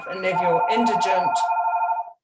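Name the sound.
mobile phone ringing during an online meeting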